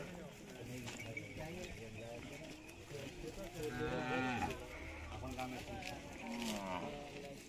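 Bullocks at a cattle market, a pair among them, give low, drawn-out lowing calls amid the steady murmur of a busy crowd, fairly faint and partly masked.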